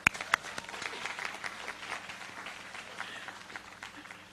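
Graduation audience applause at a community college ceremony, many hands clapping in a brisk, moderately loud wash that gradually fades, with a few sharp close claps at the start.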